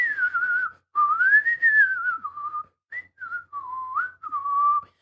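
A person whistles out of the side of the mouth, mimicking someone else's sideways whistle: a run of sliding, wavering tones in short bursts with brief gaps, close and clear, no talking.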